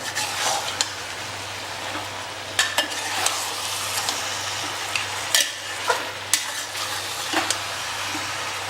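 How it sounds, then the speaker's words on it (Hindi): Mutton pieces fried in ghee with red chilies in a pot, stirred steadily, giving a continuous loud sizzle with repeated scraping and clinking of the spoon against the metal. "थोड़ा सा चला चला के लाइट ब्राउन कर लेंगे।"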